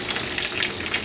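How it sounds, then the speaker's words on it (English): Pickerel fillets fry in a pan with a loud, dense, continuous sizzle and crackle, close up and without any talk. "frying up pickerel"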